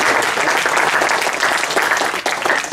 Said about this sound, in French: Je crois qu'on peut applaudir